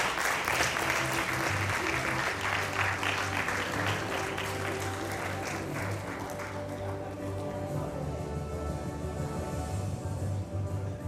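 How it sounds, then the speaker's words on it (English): Audience at a school investiture ceremony giving a long, steady round of applause, dense clapping throughout that eases slightly toward the end. "Please give him a round of applause."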